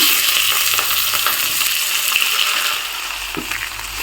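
Chopped vegetables and moong dal fry in a hot pan for a street-style leftover-chapati dish, giving a steady, close sizzling hiss that eases slightly toward the end, with no one talking.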